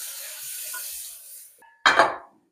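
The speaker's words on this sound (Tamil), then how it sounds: "இந்த பக்கம் இட்லியை ஊற்றி வச்சிடும்" Idli batter poured into a steamer in a home kitchen, first a steady running, splashy sound, then after a short pause a brief louder wet splash and clatter that quickly fades.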